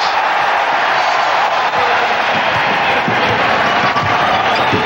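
Capacity crowd roaring steadily inside the Charlotte Coliseum at a college basketball game between Michigan and Navy, a dense, loud, continuous wash of cheering with no break.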